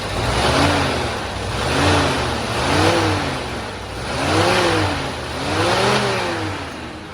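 A Mercedes W123 230E with a Stromberg carburetor running on E20 fuel revs up in repeated rising surges, its engine pitch climbing and easing back several times, loud and close with no talk.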